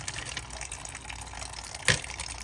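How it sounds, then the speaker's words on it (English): Water runs steadily into a rock tumbler barrel, holding a soft continuous trickle and fill sound, with a brief louder splash near the end. "But we're just going to go back into the tumbler barrel, add water"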